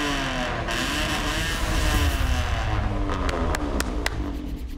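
A car engine fitted with a new exhaust revs hard, a loud and continuous sustained roar with rising pitch sweeps and a few sharp crackles toward the end.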